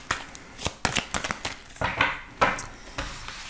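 Tarot cards being shuffled up close in quick, crisp riffling bursts and slaps, the flutter coming in uneven clusters with no talking.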